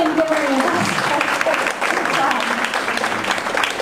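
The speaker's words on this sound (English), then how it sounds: "Let's give Linda a round of applause first." A round of applause from a seated audience at a talk, steady dense clapping throughout, with faint voices mixed in.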